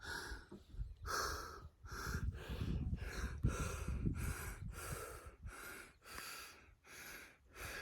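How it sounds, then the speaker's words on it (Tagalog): Heavy panting near Tacadang in Bakun, La Union: close, loud, rhythmic breaths with audible gasps and snorts, repeating steadily about once a second with no talk. "Hingal."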